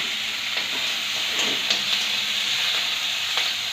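Garlic, green chili and curry leaves sautéing in a pan for a Kerala anchovy fry and curry, a steady close sizzle of frying with a few louder crackles and stirring sounds.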